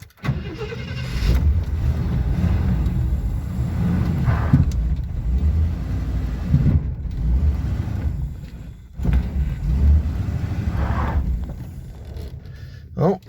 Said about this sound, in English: we got it to move in reverse, and it spun a tire doing it